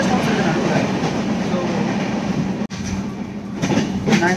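Coimbatore–Tirupati express train running, a steady loud rumble of carriages with faint rail clatter throughout and a brief dropout near the middle.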